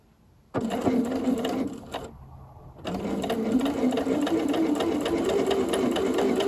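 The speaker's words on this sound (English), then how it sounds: "So we're about to go for button number 1. For me, a lot of this is just trusting that your machine can handle buttonholes." Sewing machine stitching a buttonhole on a dress, running in a steady fast whir that pauses briefly before resuming and continuing to the end, close and clear with no talk.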